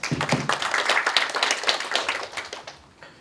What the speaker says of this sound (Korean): 우리 최진구 박사님의 토론을 박수로 듣도록 하겠습니다